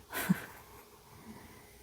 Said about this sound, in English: One of them is snoring very loudly.